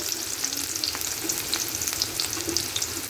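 Chopped garlic and onion sizzling in hot oil in a pan on the stove, a steady crackling fry with sharp spitting pops throughout and no talking.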